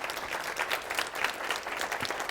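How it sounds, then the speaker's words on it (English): Steady, dense applause from a breakfast event audience, many hands clapping together at an even level throughout, with no voices standing out. "Can we give them applause, please?"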